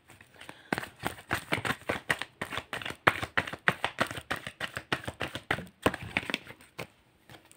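Tarot cards are shuffled close up in a fast run of crisp riffling flicks and soft slaps that repeat throughout, without talk.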